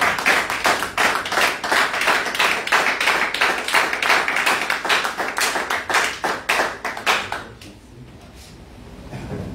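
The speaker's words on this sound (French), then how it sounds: "Est-ce que nous pouvons acclamer pour le Seigneur?" A church congregation clapping in rhythm to acclaim the Lord, loud rapid steady claps from many hands that keep going for about eight seconds and then stop abruptly.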